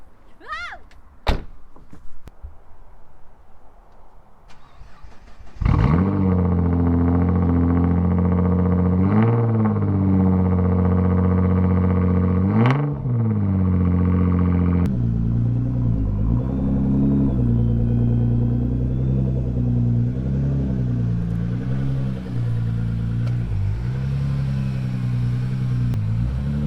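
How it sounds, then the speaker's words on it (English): A Nissan GT-R cold-starts outdoors on a front lawn. After a few clicks and a door thunk, the engine catches with a sharp crank, then holds a loud, steady rumbling idle with brief revs. Voices are faint in the background. "Here's a cold start for you guys. One last time before it gets sold."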